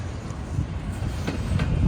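Norfolk Southern freight train rolling past at the Cassandra railroad overlook, a close, steady low rumble of rail cars on the track with faint wheel clatter.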